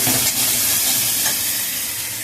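A spice masala with ground peanut paste is sautéed in a pan, giving a loud, continuous sizzle and hiss with soft stirring noises close by, and no one speaking.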